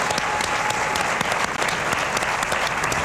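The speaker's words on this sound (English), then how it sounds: "It deserves a round of applause." Dense studio audience applause on a late-night talk show, a short steady burst of many hands clapping.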